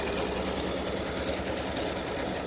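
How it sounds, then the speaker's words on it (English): An embroidery machine stitching a heart design for freestanding lace earrings and gift tags gives a steady, fast, mechanical whir with a constant rapid needle rhythm, close and loud throughout with no talk. "it's going to stitch the heart around these 2 sections and then go down and stitch the small heart down on the last pair"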